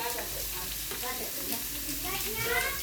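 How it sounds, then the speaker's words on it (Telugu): Garlic paste frying on low heat in a pan, a dense continuous sizzle with light stirring, heard up close with no break. "ఇప్పుడు ఈ ఎల్లిపాయ పేస్ట్ గోల్డెన్ కలర్లోకి వచ్చేంత వరకు సిమ్లో పెట్టుకొని వేయించుకోవాలి"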